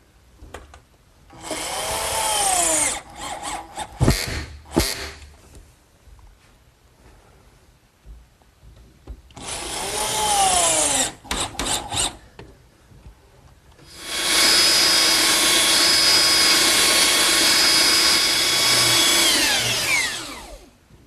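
A power tool rounds the corners of a wooden tabletop in a woodworking shop, sounding as loud, separate whining bursts with rising and falling pitch and short gaps between them, followed by a longer sustained run at the end.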